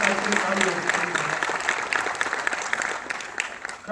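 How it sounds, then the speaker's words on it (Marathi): Sustained, dense applause from a large audience at a public ceremony marking world heritage status for Chhatrapati Shivaji Maharaj's forts, steady and fairly loud throughout with a slight dip near the end. "त्यांच्याकरता जोरदार टाळ्या आपण सगळ्यांनी वाजवल्या पाहिजे."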